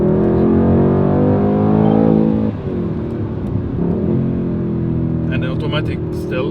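A Mercedes-AMG C63 S facelift engine in Sports Plus mode with automatic gearbox, idling loud and steady with a deep burbling drone, the pitch dipping midway, while someone talks over it throughout.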